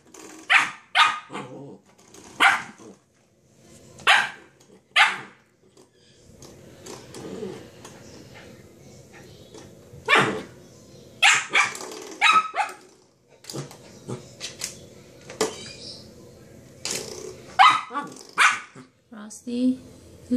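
A small dog barks in loud, sharp bursts at a doorstopper indoors, with clusters of yaps between quiet gaps and a person talking in between.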